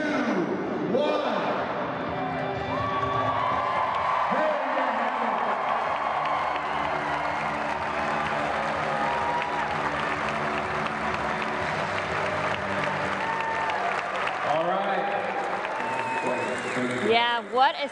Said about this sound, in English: the crowd was on its feet